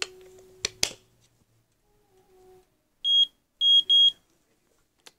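A few short, high electronic beeps from a Traxx digital alarm clock as a battery is inserted, after some handling clicks and rustling, close and fairly clear, with quiet pauses between.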